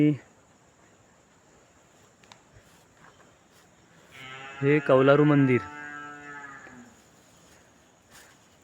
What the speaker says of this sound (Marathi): गाय हंबरते खाली